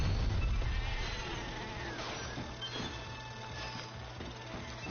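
Sheep bleats from enemies transformed in a Ratchet & Clank game, wavering cries heard over a constant low electronic hum and game background sounds.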